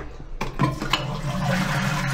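A hotel room toilet flushes with a sudden rushing gush of water, settling into a steady, close swirl and refill noise that continues to the end.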